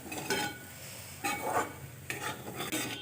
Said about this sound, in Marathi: यालाही चांगलं मिक्स करून घेऊया